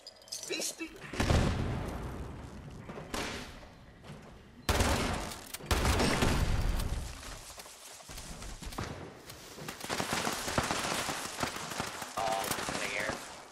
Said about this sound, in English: That's a turret, right?